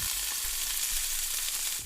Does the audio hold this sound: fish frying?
yes